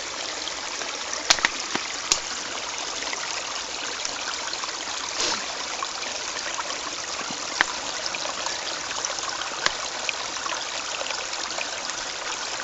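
Water trickling steadily through a single layer of t-shirt fabric into a container during survival water purification, a soft continuous dribble with a few faint knocks, no talk.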